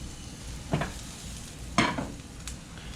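Mushrooms sauté in butter in a cast iron pan over medium heat, giving a soft steady sizzle with two brief louder stirring scrapes partway through.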